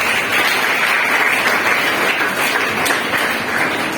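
An audience at an event honouring teachers and reporters bursts into dense, sustained applause, many hands clapping at once in a loud, even wash that holds steady throughout.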